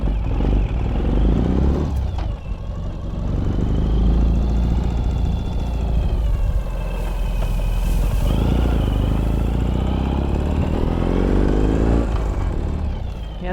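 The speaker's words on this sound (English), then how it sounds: "I'm just gonna take it around the building real quick." A 2018 Ural Gear Up sidecar motorcycle in woodland camouflage rides around a building, its engine running steadily and loud throughout with a rumbling, clattering tone that rises and falls slightly as it moves.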